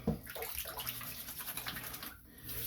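Tap water running steadily over a Chisel and Hound shaving brush head as it is wetted before a shave, a continuous close splashing stream with no talking.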